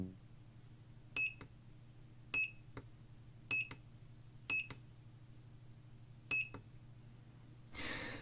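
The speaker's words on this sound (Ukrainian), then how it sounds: "Отже, пищалка працює" Five short, sharp electronic beeps from a transistor-driven piezo buzzer at irregular intervals over a quiet low hum, followed by a soft rustle at the end.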